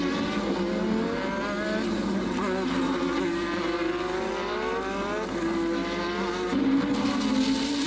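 Formula One cars at the 1987 Hungarian Grand Prix at the Hungaroring scream past in a steady, loud, high-revving engine drone, with pitch sweeping up and down as several cars pass together.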